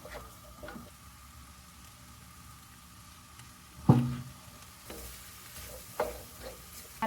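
Eggs stir in a sizzling frying pan, with a soft steady fry broken by a couple of sharp spatula scrapes and knocks against the pan, close up and without speech.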